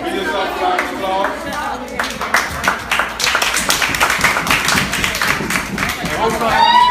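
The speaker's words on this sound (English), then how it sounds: "we just saw the applause." Applause at a youth chess mentoring program gathering in Fort Lauderdale, a scattered patter of hand clapping and taps over busy crowd chatter throughout.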